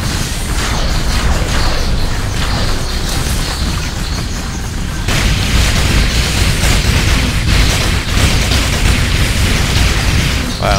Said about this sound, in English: Rain hell from above! With hot plasma shots, I'm guessing that's what we fire out of these weapons